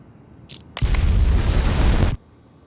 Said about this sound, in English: Does George say anything when the explosion goes off?